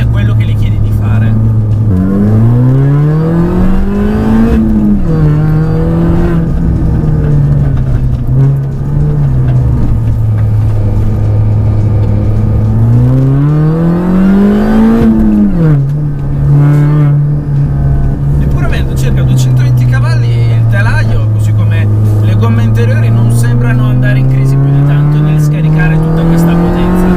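Modified Mini Cooper S R53 engine pulls hard under full throttle, its pitch rising and falling through repeated accelerations and gear changes in a loud, continuous in-car drone, with talk running over it throughout.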